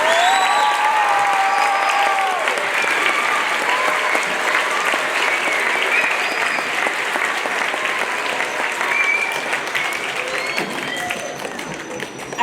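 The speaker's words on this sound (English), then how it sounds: "How about another round of applause for our fourth graders and Mr. Keys?" A large audience at a school Veterans Day celebration gives fourth graders a long, loud round of applause, dense clapping with scattered whoops that holds steady before easing slightly near the end.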